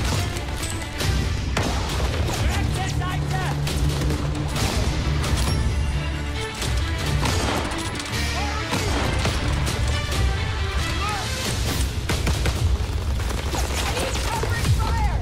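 Dense gunfire and explosions from a Call of Duty game trailer, loud and continuous with sharp repeated bursts and heavy booms layered over a thick rumbling score.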